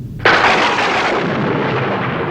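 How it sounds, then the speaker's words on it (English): A sudden loud clap of thunder breaks, then rolls and rumbles on as a long fading roar. "there was a great clap of thunder"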